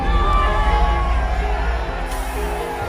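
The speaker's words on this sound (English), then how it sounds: "This is an unruly crowd in Manhattan's Union Square." An unruly crowd in Manhattan's Union Square makes a dense, loud wash of shouting and cheering voices with a deep rumbling undertone, steady throughout.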